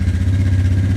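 Suzuki Ozark LTF-250 ATV engine running at a steady high idle in a cold garage, a close, loud, even low rumble with a continuous pulsing throb for the whole second.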